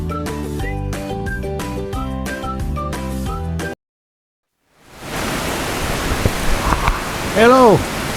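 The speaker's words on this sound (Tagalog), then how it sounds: "lakas ng ulan" Loud, dense rainfall, a steady hissing roar that begins after a short music passage and a moment of silence.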